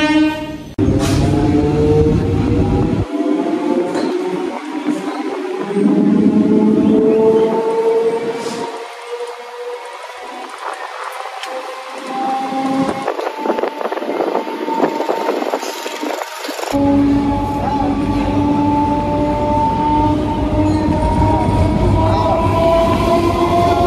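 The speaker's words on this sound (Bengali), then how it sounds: "হাওড়া স্টেশন থেকে ট্রেন ছাড়ার 10 মিনিট হতে না হতে আমাদের ট্রেন এখন এসে গেছে লিলুয়া স্টেশনে" A local passenger train heading from Howrah toward Bandel rumbles along steadily for the whole stretch, with long, loud horn blasts sounding over the rolling wheel noise and a brief rush as it passes something nearby.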